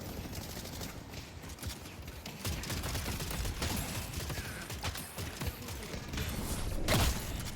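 Rapid turret fire in the Deadlock video game crackles in a steady stream of small shots, fairly faint and busy, under other game noise with scattered clicks.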